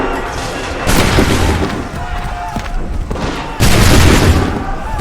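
Musket volleys in Assassin's Creed III, two heavy booming blasts of massed gunfire a few seconds apart, loud and close, with shouted commands heard between them.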